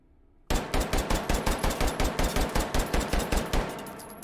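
A Glock 9x19mm pistol fitted with a stock fires in the VR shooter H3VR, a sudden loud burst of about seventeen evenly spaced, rapid shots, close and sharp, with no voices.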